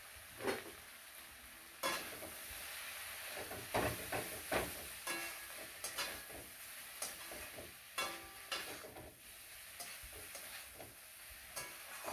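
Chicken liver fries in a pan with a constant sizzle and hiss, broken by sharp bursts and scrapes as it is stirred every second or two, close and fairly quiet.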